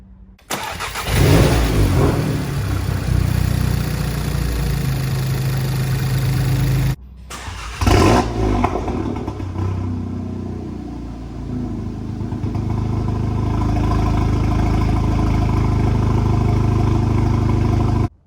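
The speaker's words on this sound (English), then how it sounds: "Let's fire it up." A Seat Ibiza Cupra with a 1.8 TSI engine is started after a stage 3 swap to an IS38 Golf R turbo. The engine cranks and catches loudly, stops briefly, then fires again and settles into a steady, close idle.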